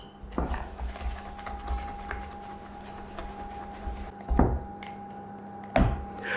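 A hand whisk beats custard for a vanilla slice filling, giving a rapid, steady geared clicking and whirring with a few louder knocks against the bowl, close up and with no voices.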